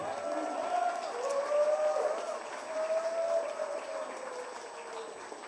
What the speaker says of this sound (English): Let's start with a round of applause for all of you.